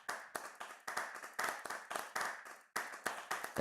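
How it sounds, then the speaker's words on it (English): Crowd applause for NicoSec at a Polygon Showcase artist event, a burst of hand clapping from a small audience with uneven rhythmic claps rising and falling, close and fairly loud with no talk. "So if everybody could just give Nico Sec a round of applause"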